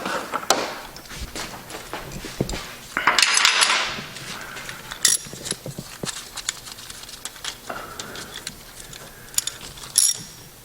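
A 3/8-inch bendy beam torque wrench handled in a garage, with sharp metallic clinks, rattles and clatter of steel tools, a brief burst of jingling and scattered ticking knocks, close by.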